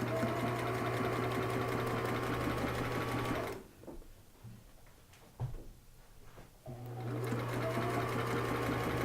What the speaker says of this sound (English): we don't stretch this one, we just sew